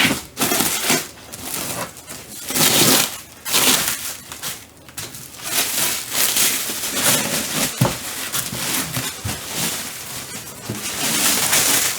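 A packaged plate is unwrapped with loud, crinkly rustling of wrapping material in irregular bursts, close by and continuous, with brief pauses between handling movements.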